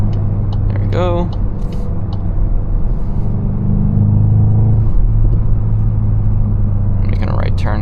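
A Volkswagen Golf GTI 380 pulls in second gear, a deep, steady engine rumble rising and holding close inside the cabin, with a brief voice near the start and another at the end.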